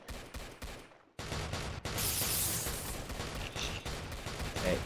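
Rapid automatic gunfire from the Hex Spitter rifle in Roblox Zombie Attack, with a few short bursts, a brief gap, then a long, loud, sustained stream of shots with game effects mixed in.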